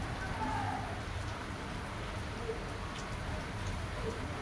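Rain falling steadily, a constant soft wash of noise with faint drips and no other clear sounds.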